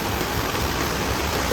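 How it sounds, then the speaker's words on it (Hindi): Heavy monsoon rain pours down in Mumbai as a loud, steady, broadband wash of water, close and unbroken, with no voices. "ऐसी बारिश नहीं हुई जैसी अभी हो रही है"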